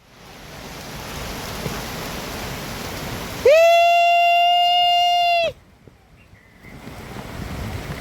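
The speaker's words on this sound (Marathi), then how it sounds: "पावसा पडला रे." Steady rain falls with a constant hiss, broken midway by a loud sustained tonal beep lasting about two seconds, then a brief lull before the rain noise returns.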